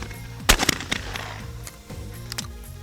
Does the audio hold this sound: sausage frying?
no